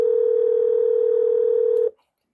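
A steady, loud telephone dial tone holds for nearly two seconds, then cuts off abruptly into silence.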